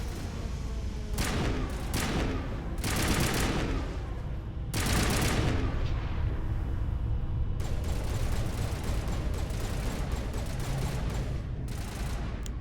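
Gunfire in the Mass Effect video game, several loud bursts of rapid shots in the first half giving way to a steady, dense stream of continuous fire.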